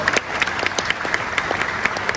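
Applause from an audience at a public university lecture in Gorontalo, a crisp, steady patter of many clapping hands with a few sharp individual claps standing out, sustained throughout without speech.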